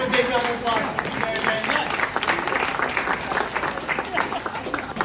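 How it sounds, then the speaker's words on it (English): An audience at an installation ceremony gives a big round of applause, steady crowd clapping with voices talking over it throughout. "Give her a big round of applause."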